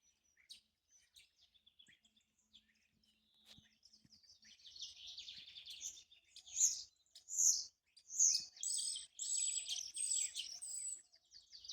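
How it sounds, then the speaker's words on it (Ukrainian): Faint scattered chirps grow into a run of bright, rapid bird tweets, rising and falling in quick bursts against a quiet background. "Там є пташка."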